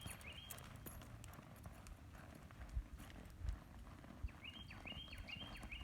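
Horse hooves thud in a loose, loping rhythm on soft ground nearby, a few heavier beats standing out over faint background noise and birdsong.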